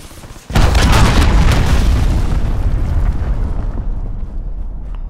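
A cruise missile strike in Call of Duty Modern Warfare hits with a sudden loud boom after a brief quiet moment, followed by a long rumbling roar that slowly fades.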